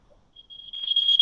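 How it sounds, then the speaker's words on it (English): A fire alarm sounds with a thin, high electronic tone that rises from faint to fairly loud and keeps on steadily, with no voices over it. "That's a fire alarm, damn it."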